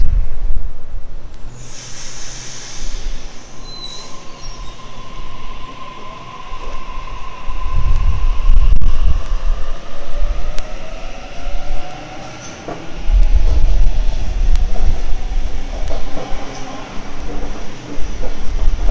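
A City Circle train at a Redfern station platform, with loud rumbling rail noise swelling and fading, and a long tonal hum and squealing wheel tones sliding across the platform sound.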